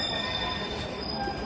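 A train at an airport station near Terminals 1 and 3 in Manchester rumbles steadily up close, with a sustained high wheel squeal and metallic ringing over the low rolling noise.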